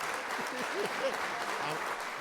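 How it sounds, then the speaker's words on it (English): Applause at the close of a podcast episode, a steady even patter of clapping held across the whole stretch with a few voices murmuring faintly underneath. "I think we can clap it up for everybody."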